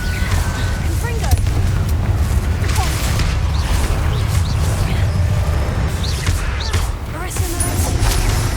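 Explosive Confringo spell blasts in the Hogwarts Legacy video game, a busy run of booms and impacts over a low rumbling game soundscape, with a voice speaking through the action.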